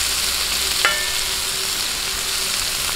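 Tomatoes sautéing in a pan for a Filipino beef mechado, giving a steady close sizzle with one brief scrape of stirring, no voices.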